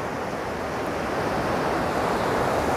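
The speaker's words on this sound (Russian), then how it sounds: "Море шумит" Sea surf rolling onto the shore at Anapa on the Black Sea, a continuous broad roar of waves close to the microphone, with some wind noise mixed in and no voices.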